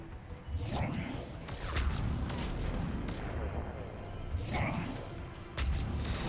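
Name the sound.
gunfire in Mass Effect 3 video game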